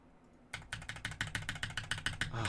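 Rapid, forceful typing on a computer keyboard, a steady run of sharp clacking keystrokes that starts abruptly and continues at close range with no talk over it.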